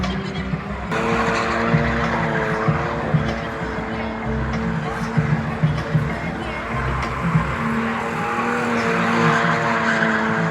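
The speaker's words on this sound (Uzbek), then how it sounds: "Yana bitta modelimiz driftga chiqardi," At a drift show at an expo in Samarkand, a car engine revs hard with wavering pitch while its tires squeal and skid, loud and fairly close, with crowd noise and voices underneath.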